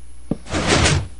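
A Minecraft door swings open and shut in one short, clear wooden clack followed by a brief sliding knock, heard alone with no talking.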